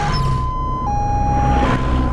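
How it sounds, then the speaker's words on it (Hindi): A loud wailing ambulance siren sounds close by, its pitch stepping between tones over a rumbling engine, with no voices. "एम्बुलेंस भी आ गई।"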